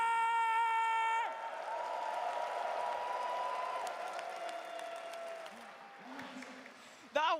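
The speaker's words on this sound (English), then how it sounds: "Can we please put our hands together for both of these incredible teams one more time?" A crowd at the Dota 2 International 2025 grand final, Extreme Gaming versus Team Falcons, applauds both teams in an arena, sustained clapping that runs beneath an announcer's voice and tails off.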